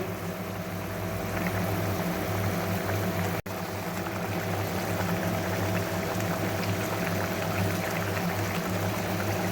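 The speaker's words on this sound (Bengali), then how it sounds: "ঝোলটা ফুটতে শুরু করেছে এবার ভেজে রাখা মাছগুলোকে আমি ঝোলের মধ্যে ছেড়ে দেব" Pabda fish curry in mustard gravy bubbles at a rolling boil as fried fish are slipped in, giving a dense, steady, loud simmering wash with one brief dropout midway.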